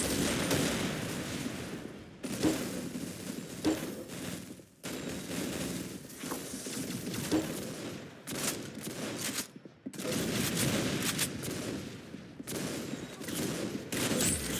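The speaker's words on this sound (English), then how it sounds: "Very good shooting." Dense bursts of gunfire crackle in long, rapid volleys, loud and continuous with a few brief gaps, an intense firefight with overlapping shots and no talk.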